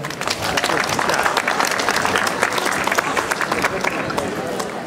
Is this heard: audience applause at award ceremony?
yes